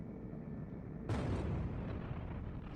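A deep rumbling boom from space battle explosions in the strategy game Homeworld, a sudden burst that erupts about a second in and then rolls on loudly.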